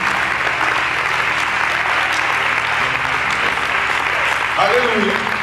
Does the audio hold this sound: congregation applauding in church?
yes